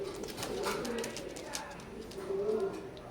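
A golden teddy pigeon pair coos softly while feeding their chicks: low, repeated rolling coos close by, fairly quiet, with faint background rustle and clicks.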